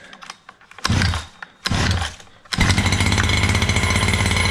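A Redcat Rampage MT V3 1/5 scale RC truck's small gas engine sputters through a couple of short pull-start bursts, then catches and runs loud and close with a steady buzzing drone.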